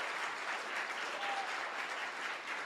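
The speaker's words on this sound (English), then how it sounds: "How about one more round of applause for Tracy, our fearless leader, huh?" Steady, even applause from an audience at a university startup demo day awards ceremony fills the whole moment at moderate volume, with no voices standing out.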